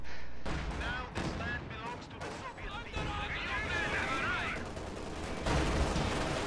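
Tank cannon fire from an Su-85 striking a Panzer II in a strategy game: heavy booming shots and impacts over continuous battlefield gunfire, with a voice commentating over the action.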